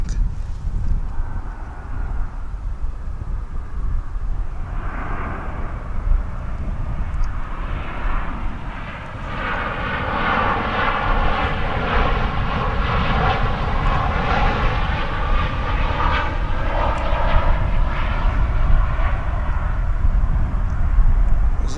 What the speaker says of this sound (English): This is American Flight 2599 from Burbank.